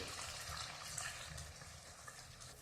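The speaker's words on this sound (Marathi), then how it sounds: "आता आपण ह्याच्यात थोडंसं पाणी घालून देऊ." Water is poured into a simmering vegetable Kolhapuri gravy in a pan, giving a faint, steady splashing gush that continues for a couple of seconds without talk.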